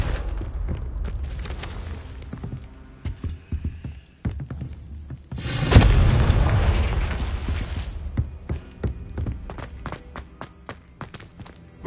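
A Confringo fire spell bursts in Hogwarts Legacy, a single loud booming blast midway that spreads into a crackling roar, surrounded by rapid footsteps and clattering game effects.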